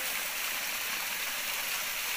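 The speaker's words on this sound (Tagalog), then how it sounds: "hindi masyadong malakas yung tubig kasi medyo natutuyo yata" A small stream runs low near a waterfall in hot, dry weather, making a steady, even rush of flowing water throughout with no talking.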